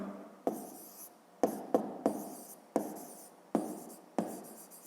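A pen writes on paper during a fifth-grade maths exercise, making a series of crisp, close scratching strokes in short bursts with brief pauses between them and no talking.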